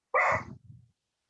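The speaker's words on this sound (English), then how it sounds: "The barking is purely coincidental." A single nearby dog gives one sharp bark followed by a short, softer rumbling tail, then quiet.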